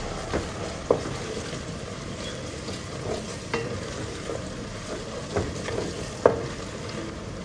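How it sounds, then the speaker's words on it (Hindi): Onions frying in a pot with two tablespoons of garlic-ginger paste for a degi aloo chicken curry, a steady low sizzle broken by occasional scrapes and clinks of a stirring spoon against the pot. "इसमें हम शामिल कर देते हैं ये 2 टेबल स्पून लहसुन अदरक की पेस्ट, और इसे भी हमने साथ में डाल के इन्हें फ्राई करना है।"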